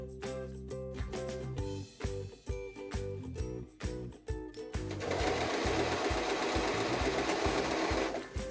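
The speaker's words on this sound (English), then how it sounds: "So you're gonna sew it first onto the cutoff." Sewing machine stitching elastic onto a fabric offcut, rapid rhythmic needle clatter in short runs, then a long loud continuous burst at full speed, close up.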